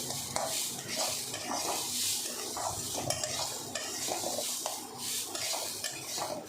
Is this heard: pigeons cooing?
no